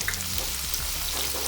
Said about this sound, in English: just saute a little bit. Make sure it will not burn.